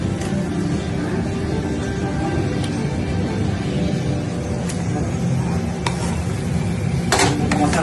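Chicken pieces stirred and frying in a kadai for a Bengali-style chicken curry: a steady close sizzle with scraping stir strokes and occasional clinks of a utensil against the pan, and no voices.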